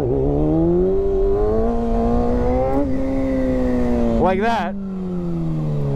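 A Kawasaki Ninja ZX6R motorcycle revs repeatedly during wheelie attempts, engine pitch climbing and falling in long swells with a sharp blip near the end, loud and close with a rider speaking briefly over it.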